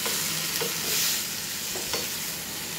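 Half-boiled mixed vegetables for labra stirred in oil in a pan, giving a steady close sizzle with soft scraping strokes throughout.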